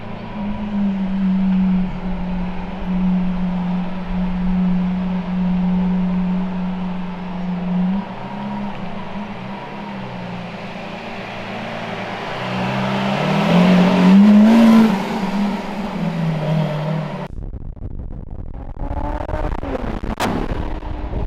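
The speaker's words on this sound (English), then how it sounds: "I came all the way to Italy to drive the Countach." Lamborghini Countach with a 6.5-litre naturally aspirated V12, driven in Italy, revving loudly and accelerating through several gear changes, the engine note rising and falling close by, ending with a sharp crackle.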